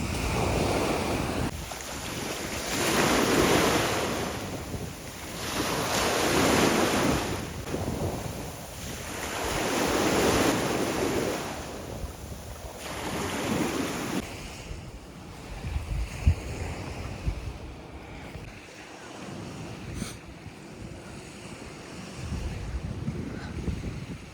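Surf and gusting wind on the beach at Es Canar, Ibiza, with waves swelling and breaking in slow repeated surges, heavy wind buffeting the microphone, then a calmer stretch of softer wash and scattered handling bumps.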